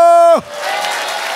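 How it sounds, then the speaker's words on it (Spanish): Congregation applauding in a church after a sermon line, a broad wash of clapping that rises at once out of a held sung or spoken tone and carries on steadily at moderate loudness. "Dale otro aplauso."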